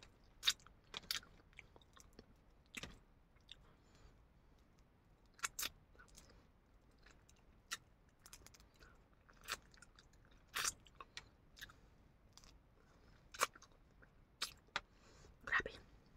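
Crunchy, wet chewing and biting on fresh crab (alimango) during a Philippine mukbang, close and quiet, with scattered sharp crunches over a soft background and occasional faint murmurs.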